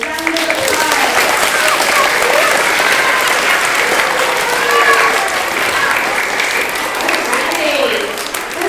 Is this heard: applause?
yes